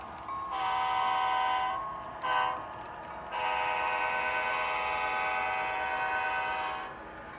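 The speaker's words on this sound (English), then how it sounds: "Now we get to show off Dave's horn blowing skills for the 3 or 4 grade crossings" An HO scale model of a Sounder commuter passenger train sounds its horn for grade crossings in a downtown Seattle layout, with two short blasts followed by one long sustained blast over faint running noise.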